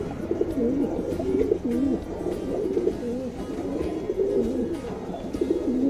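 Racing pigeons kept for tournament flying coo in repeated, rolling phrases close by, several birds overlapping in a steady rhythm above a low ambient rumble.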